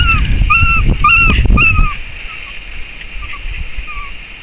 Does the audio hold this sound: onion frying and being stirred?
no